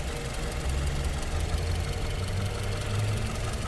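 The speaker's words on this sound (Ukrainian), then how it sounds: "Ось так робить двигун." A Toyota Camry 30 engine idles steadily with a low, even rumble and faint knocking, continuous throughout with no voices; the car has a suspected gas leak.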